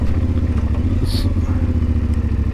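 Engine of a CFMoto Ibex 450 motorcycle held at low throttle in first gear, a steady close-up low-pitched thrum with rhythmic pulsing, no revving; the bike has a sputtering, stalling fault.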